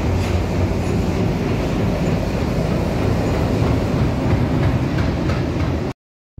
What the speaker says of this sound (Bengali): অনেকক্ষণ পর ট্রেন এলো